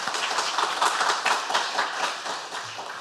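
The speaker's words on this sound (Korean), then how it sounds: "우리 진해 시찰 연합회를 위해서 우리 큰 박수로 한번 환영하도록 하겠습니다" Applause in a church as the congregation welcomes a visiting Jinhae district men's mission association during a Sunday afternoon service, a steady wash of many hands clapping that stays fairly even for about three seconds, tapering slightly near the end.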